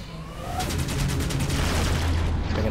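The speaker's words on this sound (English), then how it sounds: "Time to get the cannons powered up." Cannons fire in the video game Enslaved: Odyssey to the West during an assault on a pyramid, a steady rapid barrage of booming shots that grows louder after the first half second and continues without talk.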